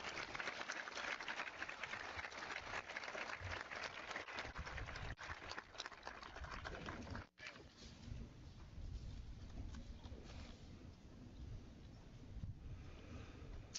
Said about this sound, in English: A round of applause for our valedictorian.